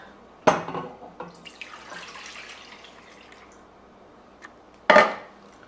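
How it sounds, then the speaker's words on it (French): Liquid pouring into a large saucepan, with a soft running splash between two sharp metallic clanks of the pan, fairly close and quiet, no talking. "versez le lait"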